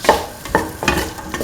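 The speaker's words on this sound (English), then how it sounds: "and mix the tomato pieces." Tomato pieces being stirred in a hot, sizzling pan, with three or four distinct scraping strokes at a steady rhythm over a soft frying hiss, close up and with no talking.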